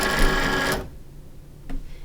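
A Cricut cutting machine loading printable vinyl makes a loud whirring motor burst for under a second, then goes quiet, followed by a brief faint mechanical click.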